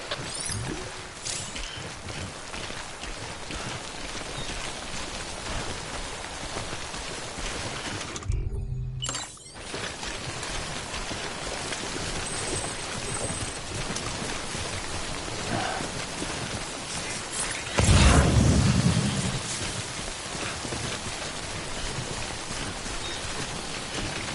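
Steady rain hisses down in Death Stranding, a dense, constant wash of droplets that runs throughout. A short dip breaks it briefly, and a deeper rumble swells for a few seconds later on.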